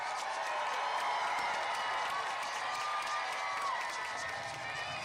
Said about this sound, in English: Let's give our graduates a last round of applause.